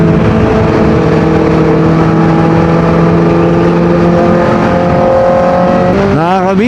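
A Kawasaki ZX-4RR motorcycle engine drones loud and close at steady high revs while riding on the NLEX expressway, then the pitch swoops and climbs sharply near the end.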